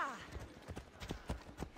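A horse's hooves clip-clop in a steady rhythmic walk in Assassin's Creed Odyssey, close and fairly faint, with a brief whinny-like sound at the start.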